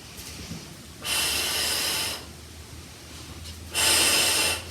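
Two long, steady breaths, each about a second, drawn close to the microphone during an at-home barre workout, with quiet pauses between them.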